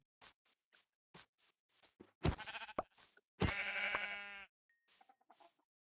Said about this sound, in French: il y a des moutons à buter là pour toi